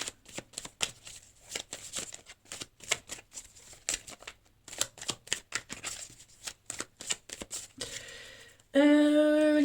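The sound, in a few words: tarot cards being shuffled for a reading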